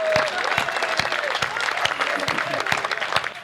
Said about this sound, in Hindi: बजा दो जरा तालियां एक बार जोरदार,